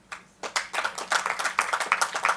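An audience at a seminar claps in a loose, steady patter of many hands, starting with a few scattered claps and quickly filling into continuous applause, close and fairly loud with no talking.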